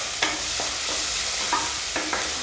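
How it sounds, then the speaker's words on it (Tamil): Onions sautéing in a pan for a coconut-free chicken gravy, with a steady soft sizzle broken by a few brief stirring scrapes, close and continuous with no talking. "வெங்காயம் வந்து ஓரளவுக்கு வதங்கிடுச்சு."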